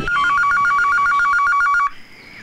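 A loud electronic telephone ring trills in fast repeated pulses, then cuts off abruptly, leaving quiet room noise.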